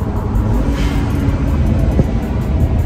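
A 600 hp BMW 335i running with a steady, loud, broadband engine roar and rumble that holds constant throughout, with a slight swell partway through and no talking.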